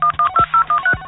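Telephone keypad tones beep in a steady run of six short, evenly spaced presses, loud and clear with no voices.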